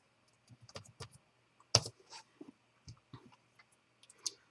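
Sparse, irregular clicks of a computer keyboard being typed on, close and fairly quiet, with short bursts of keystrokes separated by brief pauses and no voices.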